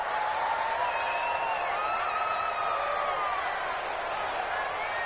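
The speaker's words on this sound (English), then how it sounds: "The crowd getting into it as we come up on a big third down." Stadium crowd noise in a PS4 American football game, a steady, loud roar of cheering and whoops building ahead of a big third down, with whistle-like shouts rising above the dense wash.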